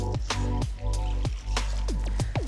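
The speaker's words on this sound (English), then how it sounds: "And then some cold water." Cold water pours and drips into a bowl of potato and tapioca starch with a pinch of salt, making a run of bubbly plops and gurgles, close and clear.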